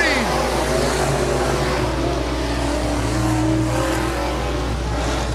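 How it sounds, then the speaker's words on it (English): Hobby stock race cars roar around the oval at Raceway Park, a loud, continuous engine drone with rising and falling pitch as cars rev through the turn, while an announcer talks over the noise. "We got a couple cars around in turn number three."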